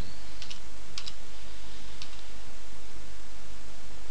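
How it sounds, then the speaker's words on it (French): Fingers tapping on a computer keyboard in a steady, busy run of soft clicks, with a few sharper key strikes standing out against a constant background hiss. "donc du coup je dois le taper moi-même"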